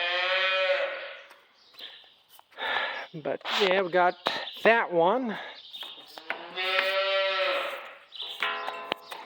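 Cows moo loudly several times in a barn, long drawn-out calls close by, with a person speaking briefly between them.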